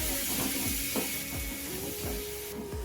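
Chopped onion and curry leaves frying in a pan for sambar give a steady, close hiss with faint crackles and light clicks throughout, with no talking.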